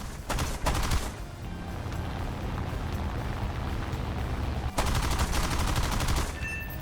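Hispano cannons firing from a Spitfire in a flight combat video game, loud rapid bursts of heavy gunfire in two clusters over a constant roaring engine drone.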